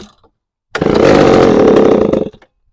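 Chainsaw engine running loud and close right after a new carburetor install, a steady buzzing roar of about a second and a half that starts abruptly and then cuts off.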